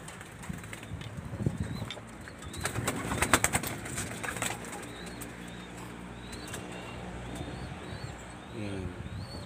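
Racing pigeons in a loft coo softly amid bursts of wing flapping and scattered chirps, with a person talking nearby.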